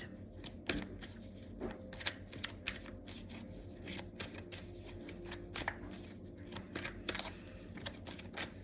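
Tarot cards are shuffled by hand in a quiet room, giving a run of soft, crisp riffles and slaps that repeat irregularly, close up with no talk.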